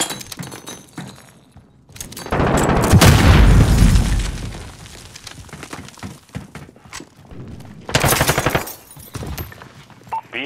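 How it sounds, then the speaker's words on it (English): A cruise missile launch in the Call of Duty video game: a heavy roaring blast swells and rumbles for a couple of seconds, then fades into scattered thuds, with a second sharp burst of impact noise near the end. "Cruise missile, go for launch."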